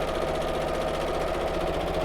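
Sewing machine on its 2.2 default stitch, sewing a shopping tote. The motor gives a steady, fast rhythmic whir with the needle clattering evenly at close range for the whole short stretch, with no talk.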